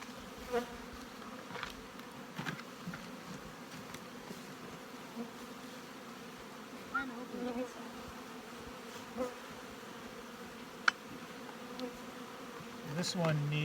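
Honey bees from tipped-back hive colonies buzz in a soft, continuous drone at low volume, with a few faint clicks and knocks scattered across the stretch.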